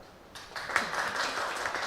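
Applause from an audience at a Hindi poetry recitation contest of humorous verse, rising after a short quiet start into steady, moderately loud clapping that continues to the end.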